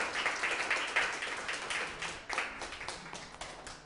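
An audience at a film screening and talk claps to welcome two directors, scattered, moderately close hand claps with an uneven rhythm that thins out over a few seconds.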